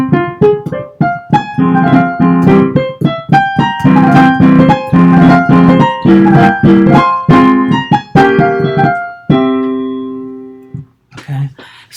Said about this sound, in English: This is the beginning of a Beethoven sonata.